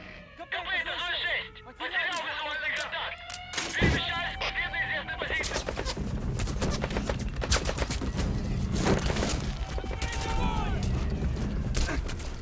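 Enemy gunfire in the video game Metal Gear Solid V cracks in scattered bursts, including a loud sharp shot, amid game ambience and mechanical clatter while a person talks over it.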